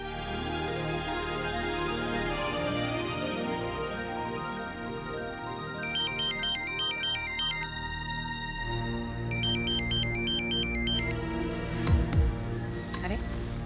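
An electronic phone ringtone plays in a repeating melodic pattern while an outgoing call connects, bright tones cycling over a music bed, loud and near, with a short burst of other sound near the end.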